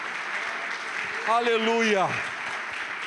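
A church congregation applauds during a Portuguese-language celebration service, a steady wash of clapping that swells briefly while a voice calls out over it.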